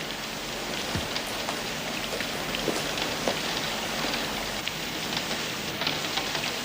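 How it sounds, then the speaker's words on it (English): Steady rain pours down, a dense even hiss of drops hitting surfaces with occasional louder splats, continuous and close. "It's just the rain."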